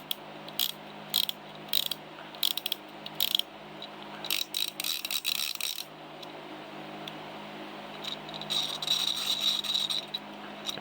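A level-wind fishing reel with machined parts and its clicker engaged, ratcheting as the spool turns. Bursts of rapid, crisp clicking come close and loud, stopping and starting, with no talk.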